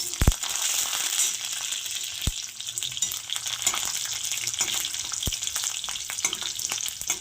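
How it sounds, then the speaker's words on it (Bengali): Garlic cloves fry with black cumin seeds in hot oil, giving a constant close sizzle broken by occasional sharp spatters and scraping stirs of a spoon in the pan. "রসুনগুলো একটু ভেজে নেব সুন্দর করে লাল লাল করে"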